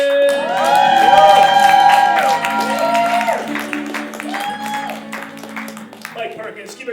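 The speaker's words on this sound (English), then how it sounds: "give the round of applause go for my man" A live late-night comedy show crowd bursts into loud applause, cheers and whoops as a comedian is welcomed to the stage, with an announcer's voice carrying over the noise before the clapping gradually thins out.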